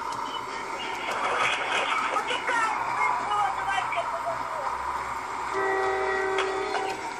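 A train in the video game Jailbreak rumbles along with clattering and a horn-like tone sounding near the end, while someone talks over it.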